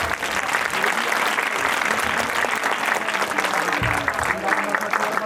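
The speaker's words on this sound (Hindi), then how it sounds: "जोर से ताली बजा कर धन्यवाद करिए" A church gathering audience claps loudly and continuously, a dense steady wash of applause from a crowd filling the room, with faint voices underneath.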